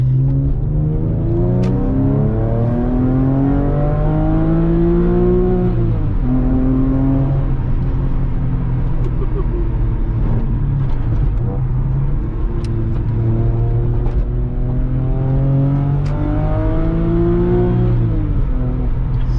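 A 2000 Porsche sports car with a six-speed gearbox accelerates hard through several gears, revs climbing and dropping at each shift, a loud rumbling roar heard from inside the car.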